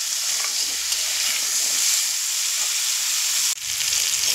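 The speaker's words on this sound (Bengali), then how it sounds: "দেখুন, মিডিয়াম ফ্লেমে 2 থেকে 3 মিনিট মতো আমি ভেজে নিয়েছি।" Vegetables with salt and turmeric fry over a medium flame, making a steady, close sizzle and hiss with light stirring scrapes and a brief dip before the frying resumes.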